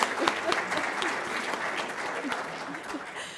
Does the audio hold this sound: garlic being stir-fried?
no